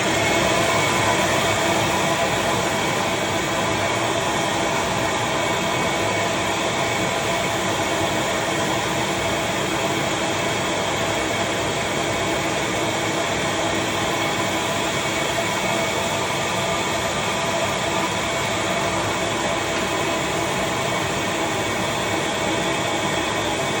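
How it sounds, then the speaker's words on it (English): A vacuum runs continuously during leaf casting of a comic page, giving a loud, steady broadband roar with a constant hum and no pauses throughout. "I'm putting on the vacuum"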